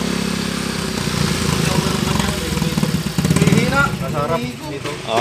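A MIUI 125 motorcycle engine running after a rebore, a steady close idle with a loud, constant rumble, while people talk over it.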